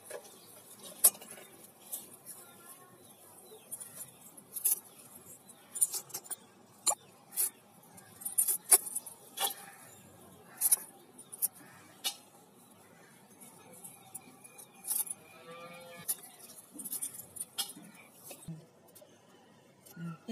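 Valla keerai greens being cut with a knife, giving sparse, irregular soft chops and clicks at close range over a quiet room, with faint background voices.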